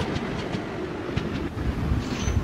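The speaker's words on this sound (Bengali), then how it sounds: "আর এই যে ট্রেন, এটা" A train rolls through a junction station with a steady rumble and rhythmic clickety-clack of wheels over rail joints, close and continuous.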